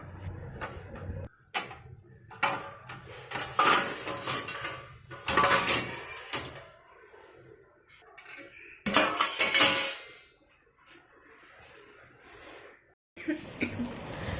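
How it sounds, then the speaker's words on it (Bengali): Dishes and utensils are stacked and put away in a home kitchen, with intermittent close clatters and clinks of metal and crockery separated by short quiet gaps, and a voice speaking now and then. "অনেক বাসন জড়ো হয়েছিল এগুলো আমি বাসনগুলো ঠিক করে রেখে দিলাম"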